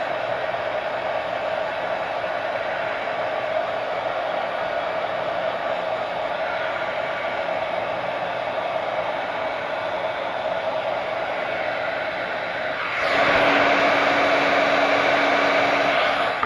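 A hair dryer blows steadily close by, drying paint on a painted windmill sign, a loud continuous whooshing hum that shifts pitch and grows louder near the end as the airflow changes, with no talk.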